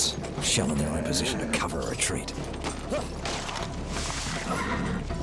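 A horse in Battlefield 1 whinnies near the start, set among creaking tack, clattering mechanical noise and hoofbeats, with a voice speaking over the battlefield din.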